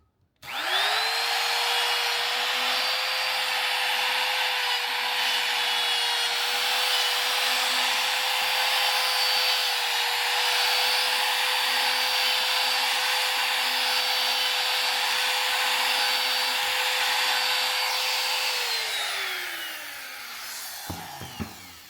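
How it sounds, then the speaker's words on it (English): A wood router cuts a door hinge recess with a hinge jig, running as a loud, steady high whine for about eighteen seconds before spinning down, with no talking. "So as you see, we routed it out."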